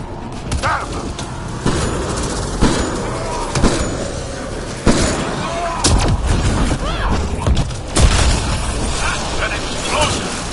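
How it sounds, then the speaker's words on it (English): Repeated booming blasts and gunfire-like bursts in a Mass Effect: Andromeda battle, loud and dense, with several heavy impacts spaced over the passage and game voices speaking throughout. "An explosion!"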